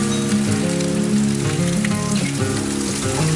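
Heavy rain from a storm with high winds and hail, a loud, dense, steady hiss of downpour with no voices.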